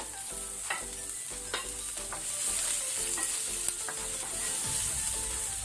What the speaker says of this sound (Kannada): ಆನಂತರ ಇಲ್ಲಿ ಈರುಳ್ಳಿ ಅನಿಯನ್ ಹಾಕೊಳ್ಳೋಣ